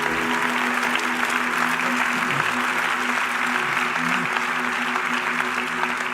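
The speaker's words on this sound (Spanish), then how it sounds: "Vamos, iglesia, va a aplaudir." A church congregation applauds at a 40th anniversary service, a dense, steady wash of clapping from many hands that fills the room continuously, loud and sustained with faint voices and a low background tone beneath.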